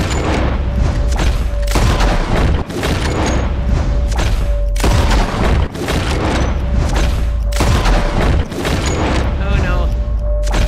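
Heavy gunshots in Red Dead Redemption 2 as players fire at flying birds, a few loud booming blasts over dense game noise, with voices talking throughout.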